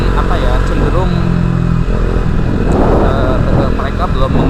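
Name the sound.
KTM RC250 motorcycle engine accelerating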